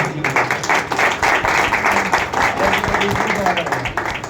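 A church congregation claps loudly and steadily, a dense run of hand claps with scattered voices mixed in.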